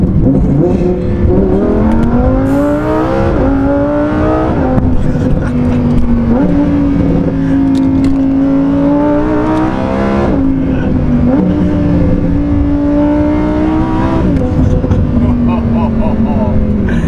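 A new Lamborghini downshifts and accelerates on an open road, its engine note climbing through several rising revs with brief drops between gear changes, loud and close inside the cabin.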